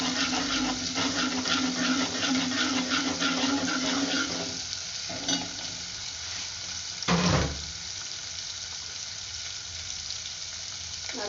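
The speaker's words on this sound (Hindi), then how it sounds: "अब मैं ये अजवाइन डाल दूँगी।" Carom seeds (ajwain) frying in a pan with a continuous loud sizzle, stirred now and then with brief scraping knocks, close and without talking.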